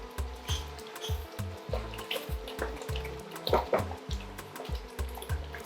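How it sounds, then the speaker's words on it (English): Hot seasoned oil splashing and sizzling in a pan while cooking Ghanaian jollof rice, a steady crackling spatter with repeated bursts throughout, close and fairly loud with no talking. "Splashing everywhere."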